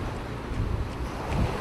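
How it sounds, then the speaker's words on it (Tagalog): Sea breeze on Panglao Beach buffets the microphone in a low, steady rumble with gusts swelling and fading, alone without talk. "Maganda yung masigoy na hangin."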